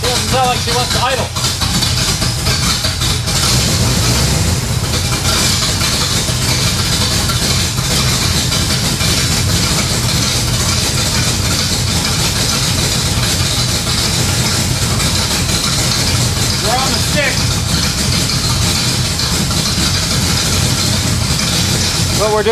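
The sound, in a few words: Pontiac LeMans Sport engine idling roughly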